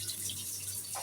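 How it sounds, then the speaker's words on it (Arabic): Water poured over steamed vermicelli for a Moroccan seffa, a brief steady hiss and trickle of liquid with no voices. "هنا كنحطو عليها الماء"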